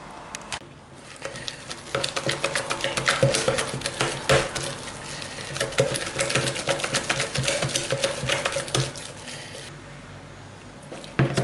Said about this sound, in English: So we're going to mix these all together until it comes to a smooth paste.